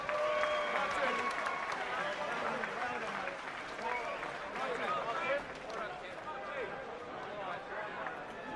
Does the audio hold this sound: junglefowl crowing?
no